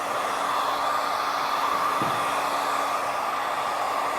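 A hair dryer blows steadily and loudly throughout while hair is smoothed and blown forward over a round brush during a haircut, with a brief dip in the airflow midway.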